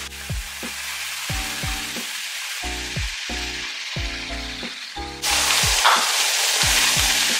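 Skewers sizzling on a grill, a steady hiss under a plucked musical backing, then a sudden louder, brighter rush of sizzling as white wine is added, continuing to the end.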